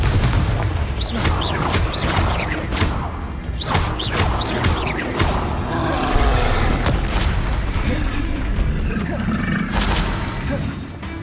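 Bombarda and Confringo spell explosions crack and boom in rapid succession during Hogwarts Legacy combat, loud bursts layered over a dense, continuous clatter of battle effects.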